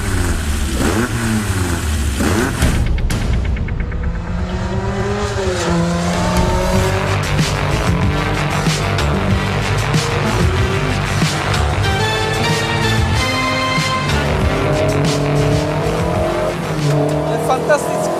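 A 30-year-old Škoda rally car driven hard on a rally stage: loud, close engine revving and rising through the gears, with tire squeal and a voice talking over the continuous roar.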